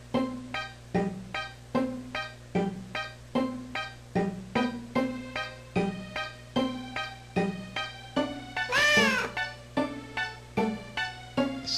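A cat meows in The Powerpuff Girls video game, a steady run of short, evenly spaced meows repeating roughly every half second, with one brief brighter sweeping sound partway through.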